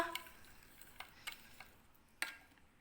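Mixed herbs worked into butter in a bowl, heard as faint, sparse clicks and scrapes of a utensil against the bowl in a quiet room, with no talk.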